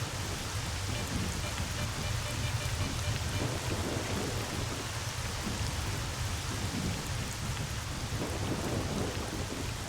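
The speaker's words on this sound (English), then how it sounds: "In such a rain, I wouldn't be trying to finish the quest, right?" Heavy rain hisses steadily throughout a thunderstorm in the video game S.T.A.L.K.E.R. Shadow of Chernobyl, with deep thunder rumbling underneath; no voices are present.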